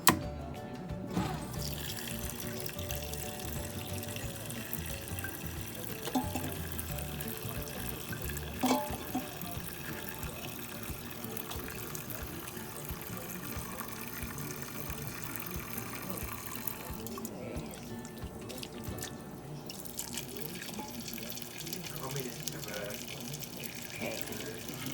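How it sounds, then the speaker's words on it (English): Water poured into a pot for ramen noodle soup runs as a long, steady splashing stream, close and continuous, with a brief change in tone near the end. "we're gonna go ahead and pour the water on"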